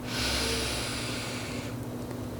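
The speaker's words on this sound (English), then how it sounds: "Full inhale." A single long, steady deep inhale through the nose during a yoga session, close and soft, drawn out for under two seconds before trailing off into quiet.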